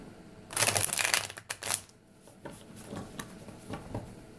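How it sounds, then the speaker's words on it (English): Tarot cards are given a firm riffling shuffle, a quick burst of crisp papery flutters followed by softer taps and slides as the deck is squared, close up and quiet. "We got a nice, solid, strong shuffle for you."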